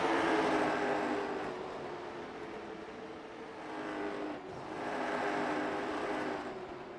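Late model race cars battle at North Wilkesboro Speedway, their engines swelling and fading in two loud waves as the pack passes close by.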